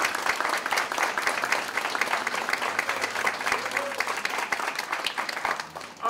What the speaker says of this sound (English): I also want to give a round of applause to all the staff